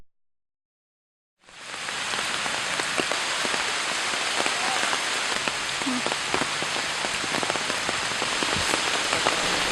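Heavy rain pours down after a brief silence, a dense, loud and constant patter of drops striking surfaces, continuing without a break and with no voices.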